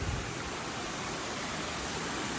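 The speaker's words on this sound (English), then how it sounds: "That's a waterfall." A waterfall gives a constant broad rushing hiss, steady and fairly faint, with no voices or other sounds.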